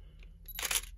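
A single camera shutter fires up close, a short mechanical clack-snap preceded by a faint click, against quiet background hum.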